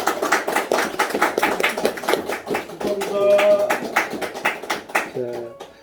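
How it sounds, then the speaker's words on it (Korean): A church congregation claps in congratulation after a baptism, a fairly rhythmic run of hand claps close by, with voices and musical tones sounding underneath. "여러분 축하의 박수 한번 쳐주시고요."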